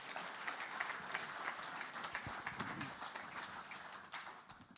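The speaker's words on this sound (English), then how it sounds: "Ladies and gentlemen, a round of applause for Andy Sweetman and Ellen Van in Fuels" Applause at a Southern 100 launch event for Andy Sweetman and Ellen Van in Fuels, a fairly faint, distant wash of clapping from a crowd that holds steady before thinning near the end.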